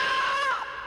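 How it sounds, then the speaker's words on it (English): A ghostly, high-pitched shriek is said to haunt the walls of Berry Pomeroy Castle in Devon, England. It wails and bends in pitch for under a second, then fades out. "Ghostly shrieks are heard"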